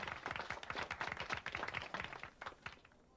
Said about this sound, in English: A lazy applause fills the room.